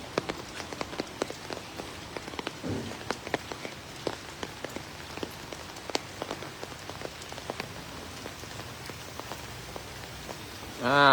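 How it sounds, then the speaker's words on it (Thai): Steady rain patters on surfaces outdoors at a Thai temple, with dense scattered drops and splashes continuing evenly throughout at moderate distance, no voices. "ฝนตก"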